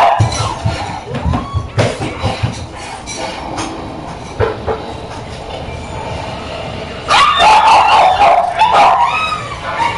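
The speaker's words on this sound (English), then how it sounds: "Sorry about the noise in the background, it's my dog." A dog barks and whimpers in the background of a Zombies gameplay session, with intermittent yips and a louder burst of barking near the end, mixed with game sounds.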